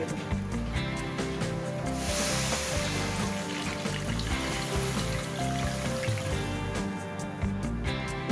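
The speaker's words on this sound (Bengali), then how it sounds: "মশলা খুব ভালোভাবে কষে নেওয়া হয়ে গেছে খুব সুন্দরভাবে মশলা থেকে তেল ছেড়ে এসছে এবার এর মধ্যে আমি জল অ্যাড করি" Water goes into a pan of fried spice paste of crushed ginger, garlic and green chilli for a fish curry, and a loud, steady hiss and bubbling rises at close range and carries on for several seconds.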